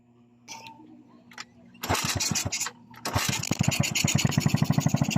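A Rusi SC 125 scooter with a wiring fault gets a few quiet kickstart strokes, then its small engine catches, sputters, dips briefly and settles into a loud, close, rapidly pulsing idle.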